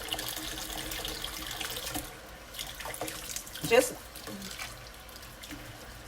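Warm tap water runs steadily from a faucet, a continuous hiss of flow into a container while preparing breadstick dough, with a brief splash or clink near the middle; the sound is moderate and fairly close.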